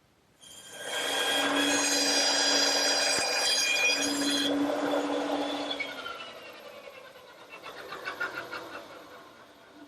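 A power saw cuts the cheeks of a wooden tenon in a workshop, a loud whining buzz for about five seconds that then winds down, followed by softer rattling.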